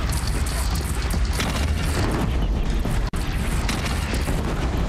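Cannon fire during a battle in the video game Horizon Zero Dawn: loud, dense, rumbling blasts that run almost without a break, with one brief cut near the end.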